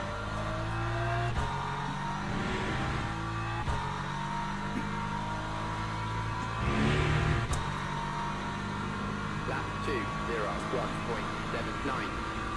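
Ferrari race car engine in the Le Mans Ultimate racing game, a sustained droning roar with gear shifts and revving, heard under a commentator's voice.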